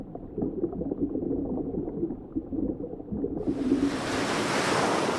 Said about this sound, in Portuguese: Surgiram então as ondas e a maré